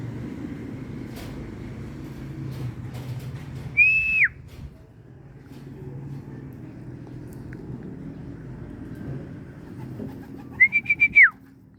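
A pigeon gives two clear whistled calls several seconds apart, each a short falling note, over a steady low hum of background noise.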